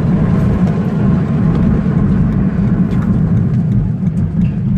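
Steady low engine drone and road rumble from a Mazda Miata sports car cruising at about 40 mph, constant and fairly loud from inside, with no talk.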